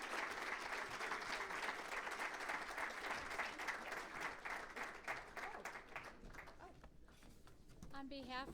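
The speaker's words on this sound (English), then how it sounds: "Give the Chamber a big round of applause" Sustained applause from an audience at a regional chamber of commerce event fills the hall, dense and steady, with a voice speaking over it and the clapping thinning out toward the end.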